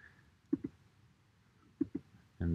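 Two pairs of quick, light mouse clicks on a computer's upload video button, each a sharp double tick close by, spaced about a second apart in a quiet room, followed by a louder low rumble at the end.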